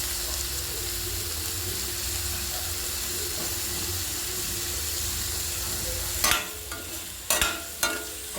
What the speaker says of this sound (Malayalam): എല്ലാം കൂടെ ചേർന്ന് നന്നായിട്ട് വഴറ്റിയെടുക്കാം